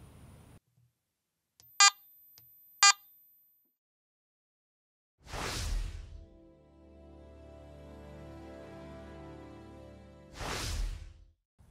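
Garrett AT Max metal detector giving iron audio tones in all-metal mode: two brief sharp electronic beeps, then two broad whooshing swipes framing a long low grunting tone, close and clear with no talk.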